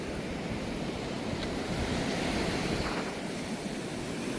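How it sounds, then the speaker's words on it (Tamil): Rough sea surf crashes on the shore at Mullaitivu in a constant broad roar of breaking waves, fairly faint and steady, with wind buffeting the microphone. "அப்படி ஒரு பயங்கரமாக அடிச்சு கொண்டு இருக்குது கடல்"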